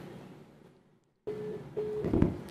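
Telephone line on a live broadcast call-in cutting off, with a steady electronic tone, a brief gap and a dial-tone-like hum ending in a louder burst, heard close with no talk.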